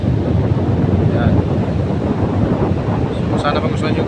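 Pacific Ocean surf at Sulangan, Samar, rumbles as a loud, steady wash of waves with heavy wind buffeting the microphone throughout, a few faint higher tones near the end.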